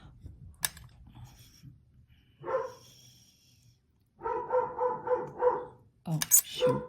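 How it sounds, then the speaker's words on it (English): A dog barks indoors in short bursts, first a single bark, then a fast run of barks, then another bark near the end, while someone is working with polymer clay nearby. Quiet handling sounds fill the gaps. "I have to stop my dog from barking"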